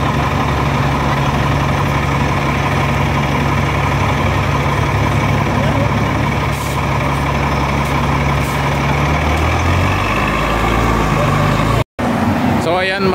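A KMB City Flyer bus idles loudly at a Hong Kong bus stop in Chim Sha Tsui, its steady low diesel rumble continuous throughout, with a brief dropout near the end and voices talking over it.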